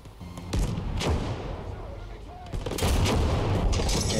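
Gunfire and heavy explosive bursts fill a Call to Arms – Gates of Hell Liberation battle, repeated sharp shots and booming impacts layered over constant rumbling combat noise, loud and close, with some voices mixed in.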